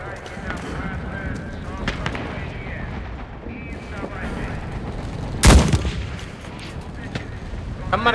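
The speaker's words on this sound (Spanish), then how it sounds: "Eso suena que acaba de explotar un tanque." A tank blows up in a single heavy boom amid steady gunfire and distant artillery on a Stalingrad battlefield in the World War II shooter Enlisted, the blast rising loud above the continuous crackle of combat.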